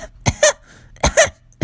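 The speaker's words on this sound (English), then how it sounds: "she begins aggressively coughing and spluttering" A cartoon engine character coughs and splutters in two harsh, close, loud bursts, each a pair of rough coughs separated by a short pause.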